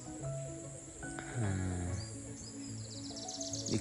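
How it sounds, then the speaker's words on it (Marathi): Several birds call and chirp outdoors in a Konkan village in overlapping bursts, with a steady insect-like hum underneath. "पक्ष्यांचा आवाज येते या साईडशी"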